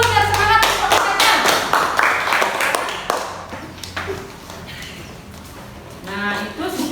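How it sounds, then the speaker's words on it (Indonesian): Schoolchildren in an elementary classroom clap their hands together, a rapid burst of loud, close claps with some rhythmic unison that thins out toward the end, with a teacher's voice speaking over parts of it. "beri tepuk tangan dulu biar semangat kelompoknya"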